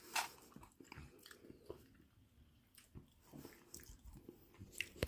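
A crunchy snack from a 2021 Z-Ration MRE, likely among pretzels, is crunched and chewed close to the microphone, with irregular bites and chews repeating throughout, faint and without talking.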